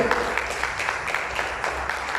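A church congregation claps in rhythmic, steady bursts throughout, a lively moderate-level applause that fills the room with no voices standing out.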